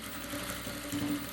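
Sewing machine stitching a seam on a handmade shoulder bag with a zipper channel, a steady low mechanical hum running continuously and close, with no talking.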